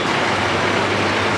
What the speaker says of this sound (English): Here is the traffic going out of Dhaka